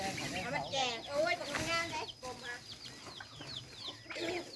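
Chickens cluck and warble repeatedly at close range around a rural fruit-picking spot, the calls overlapping in a busy, continuous stream with no talk.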